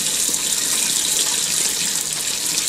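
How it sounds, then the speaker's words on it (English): A kitchen sink fills with a steady, loud gush of water from the tap, close and continuous with no voices. "The sink is filling up."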